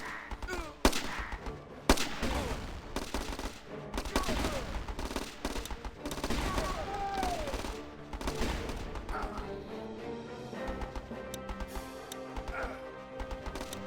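Rapid bursts of gunfire and explosions from the war strategy video game Battle Islands Commanders crackle in dense volleys, fairly loud, with a voice talking now and then between the shots.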